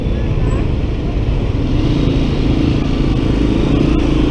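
A Honda ADV 150 scooter rides along a road in the Philippines, its engine droning steadily and loudly against constant wind rush throughout.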